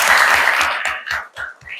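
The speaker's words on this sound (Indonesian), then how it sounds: "Aplaus untuk kita semua." A classroom of students claps together, a loud burst of applause that quickly thins into a few scattered separate claps before fading out.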